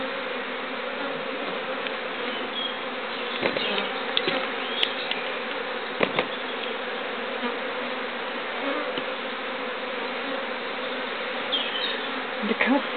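A honeybee swarm from a Sun Hive colony buzzes as a dense, steady, continuous drone of many bees, with faint scattered knocks and no talk.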